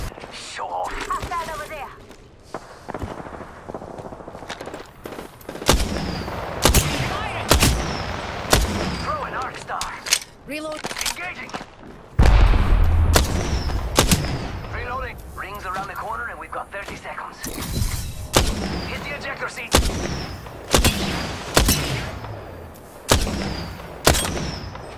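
Apex Legends gunfire crackles in repeated sharp bursts and heavy booms, loud and close, with talk over much of the action throughout.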